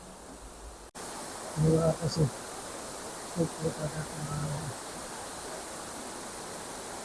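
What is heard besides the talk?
waterfall at Khandala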